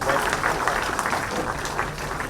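Audience applause at a ceremony handing appointment letters to selected candidates, a steady dense clapping throughout with a murmur of voices.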